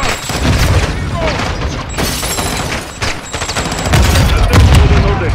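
A shootout in the video game Cartel Las Almas, with loud, dense gunfire, rapid automatic bursts and heavy booming explosions running continuously, while voices shout over the battle.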